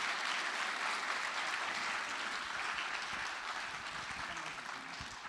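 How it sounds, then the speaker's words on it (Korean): Sustained applause from a church congregation during a worship service, a dense, even wash of clapping that holds steady throughout and fades slightly toward the end. "우리 박수로 환영했으면 좋겠습니다"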